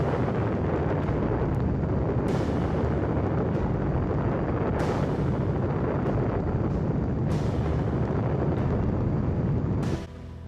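A huge, sustained roar and rumble from an atomic bomb explosion at the first nuclear test in July 1945, a dense loud blast that carries on for ten seconds and ends abruptly.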